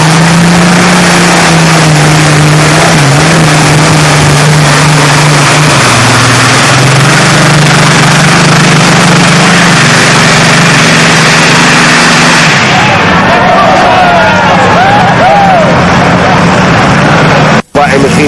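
A 6000-horsepower pulling tractor at a tractor pulling competition in Halsteren, 1990, roars loudly and steadily from the distance, its engine pitch shifting partway through, while a commentator talks over it.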